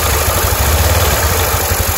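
A carbureted Honda Beat motorcycle engine idles steadily and close up, its low rumble overlaid with a continuous mechanical clatter from a loose cam chain tensioner, with no talking.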